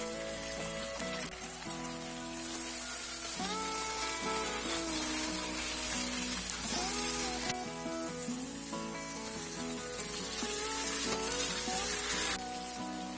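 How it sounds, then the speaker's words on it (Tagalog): Chopped onions sautéing with browned chicken in a pan, a steady loud sizzle that runs throughout with no talking, over a continuous low tonal hum. "pwede na natin ilagay yung ating mga sibuyas. Igisa lang natin yan for at least 1 minute."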